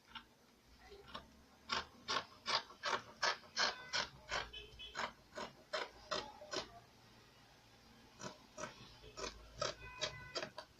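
Fabric being cut to shape a sleeve pattern, a quiet run of close, rhythmic scissor snips in two bursts with a short pause between, and no talking.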